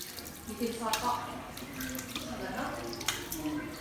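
Tap water running while hands are rinsed up to the elbows, a faint splashing trickle into a sink with a few drips, under someone talking.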